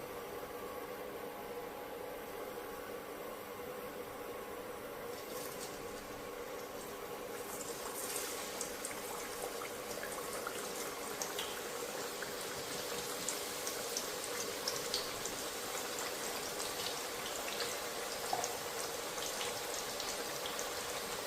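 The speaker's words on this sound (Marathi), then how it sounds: "आता आपण या तेलामध्ये बटाट्याचे वेफर्स तळून घेणार आहोत." Potato wafers frying in hot oil in a home kitchen, with a steady, soft sizzling and bubbling hiss that continues without a break and grows a little fuller partway through.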